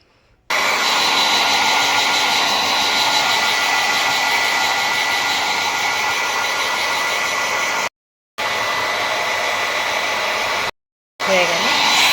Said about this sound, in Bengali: এবারে ড্রায়ার দিয়ে না চুলটাকে শুকনো করতে হবে।